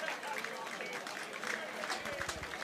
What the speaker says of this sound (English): Round of applause from the crowd for those two.